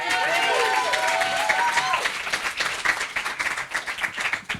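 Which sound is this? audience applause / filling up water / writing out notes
audience applause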